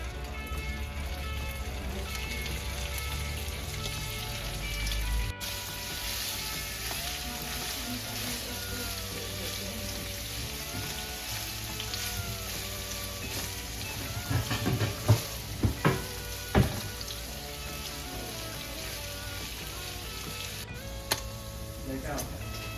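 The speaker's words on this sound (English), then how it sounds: "now fry the paneer" Paneer frying in oil in a pan for palak paneer, a steady close sizzle throughout with a few louder clatters and stirring knocks near the end, under talk.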